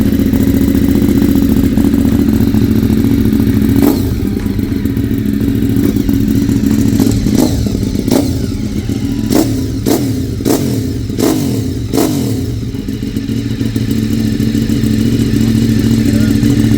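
A Ducati 848 Evo motorcycle fitted with a new race exhaust idles loudly and close by, then fires off a series of sharp throttle blips and revs in its second half, with a few voices faintly underneath.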